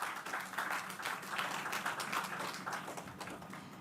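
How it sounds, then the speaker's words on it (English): Steady applause from a ceremony crowd at the official opening and ribbon cutting of a learning centre, dense clapping sustained evenly throughout without pause. "I want you to give them a round of applause"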